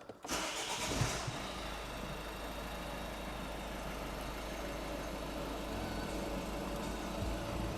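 Ford Focus 1.6 TDCi diesel with a new cambelt, water pump and auxiliary belt cranks briefly and fires, then settles into a steady, close diesel idle that runs evenly to the end.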